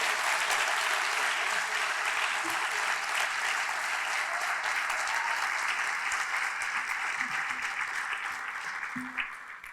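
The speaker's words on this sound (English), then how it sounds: "So a big round of applause to Mr. Anson Ng." Sustained applause from a dinner audience at a charity event, dense steady clapping throughout that tapers slightly near the end.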